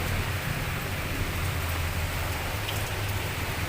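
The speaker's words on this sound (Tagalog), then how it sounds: "Lakas tong ulan, guys." Heavy typhoon rain pours steadily and loudly, a dense unbroken hiss with a low rumble underneath and no pauses.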